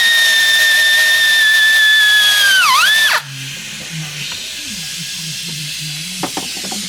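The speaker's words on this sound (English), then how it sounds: "if you want to be a bit fancy like we're doing today, air tools" An air tool works a 10mm bolt on a 2008 Land Rover Freelander 2, giving a loud, steady high-pitched whine and hiss that falls off sharply at about three seconds, then quieter clinks and handling noises.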